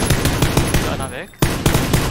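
Rapid automatic gunfire from a squad-based first-person shooter game, loud and close, in dense repeated bursts with a brief gap near the middle before firing resumes.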